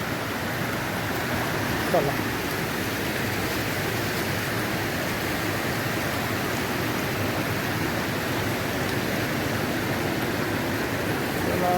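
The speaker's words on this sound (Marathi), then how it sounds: "बघा इकडं पाणी वाहत चाललं आहे जबरदस्त त्याच्यावर ओव्हरफ्लो होणार" Water flows steadily at Bhivapur Lake, a continuous broadband rush with no pause. One short spoken word comes in briefly near the start.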